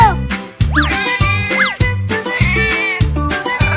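In a cartoon, a cat meows two or three times with swooping, bright cries, over a rhythmic music track with a thumping low beat.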